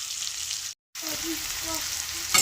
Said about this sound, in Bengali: আমি এবার এর ভিতরে পেঁয়াজগুলো দিয়ে দেব কুচানো পেঁয়াজ এগুলো ভালো করে ভেজে নেব